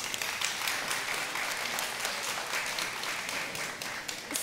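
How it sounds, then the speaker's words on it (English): Steady audience applause fills a SXSW 2024 conference panel room after guests are introduced, dense continuous clapping at even loudness throughout without any talk. "Big round of applause for them."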